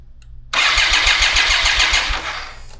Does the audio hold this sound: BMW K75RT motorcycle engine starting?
yes